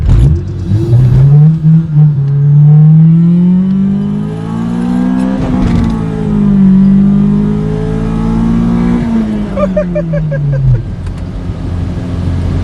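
A Honda EG Civic with a B16A2 engine pulls hard from inside the cabin, the loud engine note climbing in pitch through first gear, dipping at a shift, then rising again before easing off.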